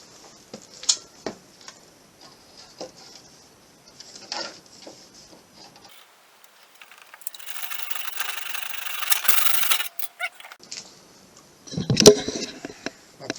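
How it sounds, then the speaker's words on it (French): A hand saw cuts through PVC panelling in a short burst of rough, rasping strokes. Light knocks and handling sounds come before and after it, heard up close. "Avec la scie égoïne, ça va très bien."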